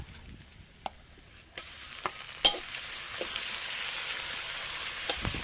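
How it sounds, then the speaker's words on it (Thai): Chili and garlic crackle in a hot wok, with a few light taps and scrapes, then the sizzle swells loud and steady as stir-frying continues. "ตั้งกระทะใส่พริก ใส่กระเทียมค่ะ ผัดให้สุกนะคะ"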